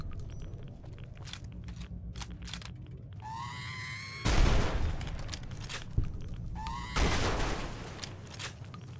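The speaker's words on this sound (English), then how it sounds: "My rifle cuts through the robots and turrets easily." Rifle fire at robots and turrets in Fallout New Vegas: sharp single shots and clicks, then two loud blasts with rumbling tails, each preceded by a rising electronic whine, with scattered metallic clatter between them.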